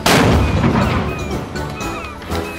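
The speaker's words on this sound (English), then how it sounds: "The police needed to decide if they would allow the cannon to be fired in Casemate Square" A cannon booms loudly in Casemate Square, a single heavy blast whose rumble and reverberation roll on and fade across the open square.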